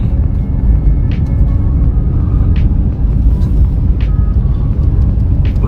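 A car driving slowly into a mall's underground parking basement, a loud steady low engine and road rumble heard from inside the cabin, with a few faint higher squeaks and clicks over it.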